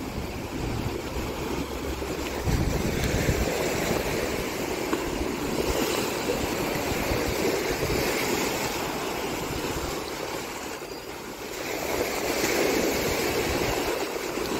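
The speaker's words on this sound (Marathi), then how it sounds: "समुद्राच्या या लाटांचा जो आवाज असा" Sea waves break along a private Goa beach by a resort, making a continuous broad roaring wash mixed with wind that swells louder near the end, with no voices.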